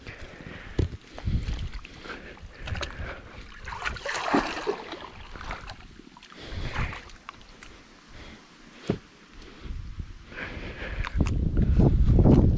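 Water pours out of a fish pond through a pulled drain pipe in a rushing, splashing gush, close and fairly loud, with scattered knocks and splashes and the flow swelling stronger at the end.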